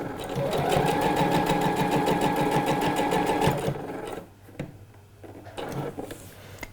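A sewing machine runs steadily while stitching a trouser hem, a fast even whir for several seconds that then stops, followed by quieter handling sounds and soft talk.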